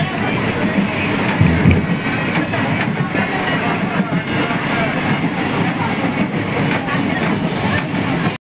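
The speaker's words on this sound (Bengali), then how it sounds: "এখন আমি ট্রেনে আছি।" Inside a moving passenger train, the carriage gives a continuous low rumble with rattling and clicking from the rails, steady and fairly loud, with faint voices in the background.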